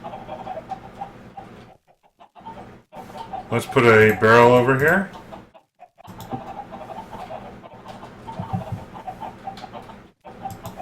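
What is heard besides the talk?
chickens clucking in video game Minecraft, Agrarian Skies modpack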